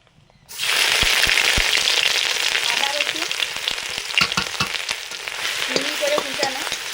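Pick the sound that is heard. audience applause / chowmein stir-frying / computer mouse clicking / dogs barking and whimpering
chowmein stir-frying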